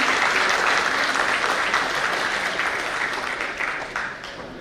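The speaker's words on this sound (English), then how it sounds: "Can we have a huge round of applause for this team?" An audience at a national management convention applauds a team with dense, sustained clapping that holds steady for several seconds, then gradually thins and fades.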